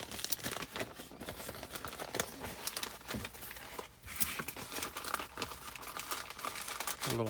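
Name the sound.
items being put into a small paper envelope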